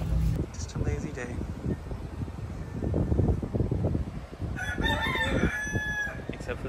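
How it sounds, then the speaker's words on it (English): Chickens cluck and a rooster crows in an outdoor setting in Puerto Rico, busy and fairly close, with a singing voice running over them and a breezy background. "Except for the chickens. They got a lot to say."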